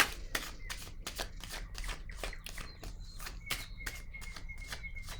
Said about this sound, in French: Je vais déposer une carte sur réjouissance et fête.